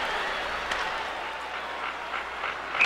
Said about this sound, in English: Looks like the crowd's getting into the spirit of things.